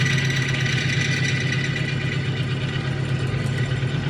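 A bearing test machine running a dry, cleaned bearing makes a steady mechanical drone without pause, a constant motor hum with a faint rough rattle, close and unchanging throughout.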